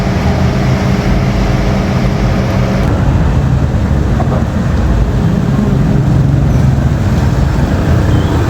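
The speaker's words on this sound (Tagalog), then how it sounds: "Grabe talaga ang ulan ngayon, no?" Heavy rain pours steadily during a typhoon, a dense, loud continuous roar close by, with deep rumbling underneath and no voices.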